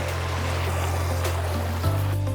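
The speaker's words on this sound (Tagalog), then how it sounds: "Sa running water, dito mismo sa ilog." Running water of the Dipalo River, a steady rushing wash with a low hum underneath, continuous and fairly loud throughout.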